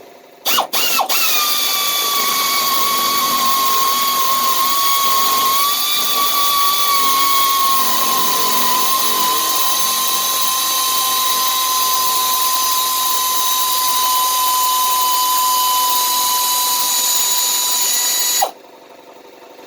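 A power tool backs a long bolt out of a truck with a continuous high-pitched whine that starts with a few quick clicks, runs loud and steady for about eighteen seconds, then cuts off abruptly.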